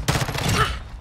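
Rapid automatic gunfire in Call of Duty Modern Warfare 2 multiplayer, a dense close burst of shots running without a break.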